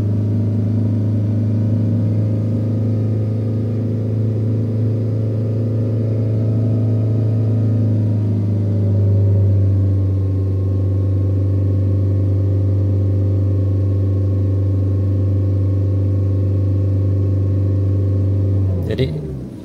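A Proton Saga 1.5L I-GT engine held at about 3000 RPM, giving a steady, smooth hum with a slight settling partway through and no talk until a faint click right at the end.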